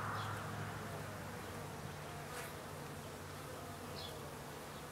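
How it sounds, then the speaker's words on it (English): Honey bees fly around an opened hive on a cool spring day, a faint, continuous buzzing hum with occasional individual bees passing close to the microphone. "You can see the bees flying at me."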